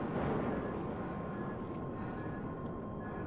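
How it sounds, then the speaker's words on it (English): Aircraft landing with its landing gear deployed in a space flight game, a low, steady engine rumble with a faint whine held evenly throughout. "The landing gear will automatically deploy when I get close. Landing gear deployed."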